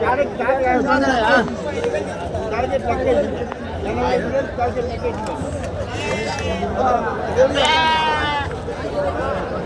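Goats bleat in wavering cries at a busy weekly goat market, over steady chatter from several people, with a couple of louder calls standing out near the end.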